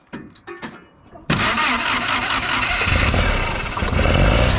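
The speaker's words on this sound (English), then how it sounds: "Sam, I want you to crank it" A 1953 Willys CJ3b engine cranking on the starter with dirty fuel: a few soft clunks and faint talk, then a sudden loud, continuous churning drone that runs to the end, close by.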